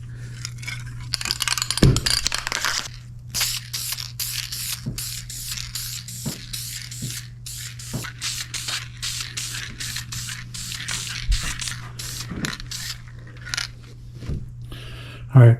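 Light coats of spray paint hiss from an aerosol can onto the dash of a 1968 Pontiac LeMans, in repeated short bursts with brief pauses, close and steady over a low background hum.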